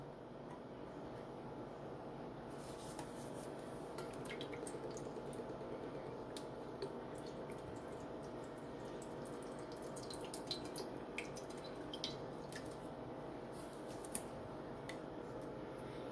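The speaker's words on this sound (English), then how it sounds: "I'm going to put half a can of evaporated milk." Half a can of evaporated milk pours into a pot for a one-pot salmon stew: a gentle, continuous watery stream with faint drips and small ticks, fairly quiet and unbroken by speech.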